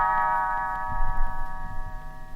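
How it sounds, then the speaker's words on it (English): Small bells ring in a sustained, bright chord as a signal to turn the page in a children's read-aloud of Davy Crockett, sounding close and clear with a soft rumble underneath. "You will know it is time to turn the page when Tinker Bell rings her little bells like this."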